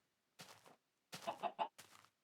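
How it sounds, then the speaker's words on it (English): A Minecraft chicken clucks in short bursts, one cluck, then a quick run of several, then another, fairly clear against silence. "Well, also that chicken."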